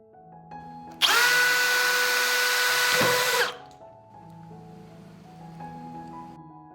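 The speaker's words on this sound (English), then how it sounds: "I will drill a hole in the cover with a 2 mm drill bit." A power drill with a 2 mm bit whines loudly for about two and a half seconds while boring through a plastic bottle cap, then winds down, leaving a quiet tonal hum.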